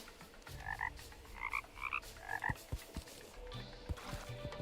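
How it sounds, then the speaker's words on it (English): Repeated frog croaks from a rare frog pet in the video game Terraria, several short paired calls in quick succession over steady game ambience, followed by scattered thumps and clicks. "That's one of the rare frog pets."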